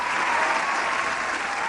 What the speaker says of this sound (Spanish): está aplaudiendo Will de pie, lagrimea.